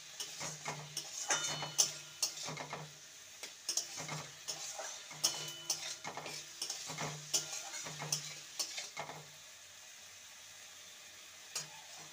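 Leftover rice fried with egg and red chilli sauce, stirred in a pan with a run of rhythmic spatula taps and scrapes over a faint sizzle, close, then tapering off to near quiet.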